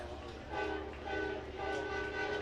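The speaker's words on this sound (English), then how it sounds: "Gotta like that touch from the train horn here." A passing train horn blares in long sustained tones over steady rumbling crowd noise at a night high school football game, sounding twice in a couple of seconds from some distance.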